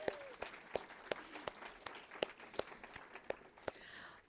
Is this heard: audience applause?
yes